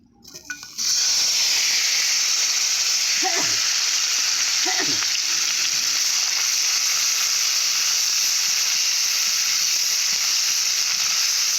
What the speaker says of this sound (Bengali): উচ্ছেগুলো ফাঁকা তেলে ভালো করে ভেজে নেব